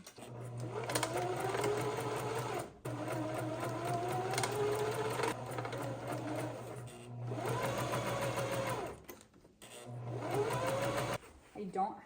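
A sewing machine runs in steady bursts, stitching quilt pieces together for a Christmas quilt bow, with a constant motor hum. Each run stops briefly before starting again, and a voice talks over the whirring.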